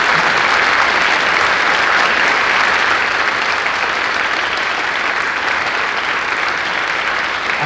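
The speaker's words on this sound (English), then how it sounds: "let's give them a warm round of applause" A school assembly gives veterans a warm round of applause, loud sustained clapping from a large crowd that stays dense and even throughout.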